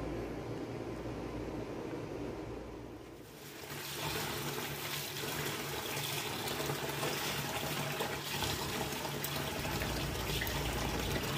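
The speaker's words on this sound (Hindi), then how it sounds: "चावलों को अच्छी तरह धो लेंगे जी।" Rice is washed under running water for beef yakhni pulao, giving a steady hiss of flowing water that pauses briefly and then resumes, sustained and fairly close, with no one talking.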